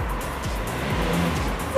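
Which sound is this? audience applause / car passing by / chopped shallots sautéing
car passing by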